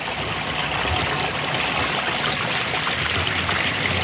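Mountain stream water flowing steadily in a continuous rushing, trickling wash, close and even throughout with no other sounds.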